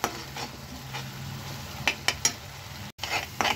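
Turmeric and coriander powder frying in oil in a pan for a cauliflower dish, a low steady sizzle with a few scraping stirs and clinks of a spoon against the pot, close and fairly quiet.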